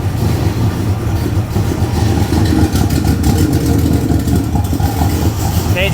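Patina Chevy pickup engine running after a new cam fit, a loud rough idle rumbling steadily and close up, with a little talk in the background.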